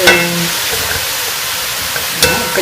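Soft sizzling of leeks frying in a pan, with a couple of sharp clinks of a utensil against the pan near the start and end.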